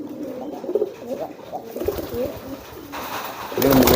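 A male pigeon's courtship cooing comes in low, rolling bursts close by, with rustling and wing noise rising near the end.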